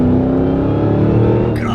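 A Dodge Challenger Hellcat Redeye engine revs hard under acceleration, a loud, close, rising harmonic roar that holds steady for under two seconds before briefly easing.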